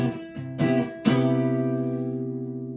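An acoustic guitar plays an E form major 7 chord with a muted string. A few quick strums lead into one final strum that rings out and slowly decays, close and solo.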